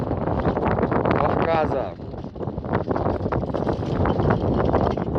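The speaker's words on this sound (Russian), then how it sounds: "Сейчас очень сильный ветер. Ужасный." Strong wind roars steadily across the highest summit in Russia and Europe, a loud, continuous buffeting rush at the microphone, with people talking over it throughout.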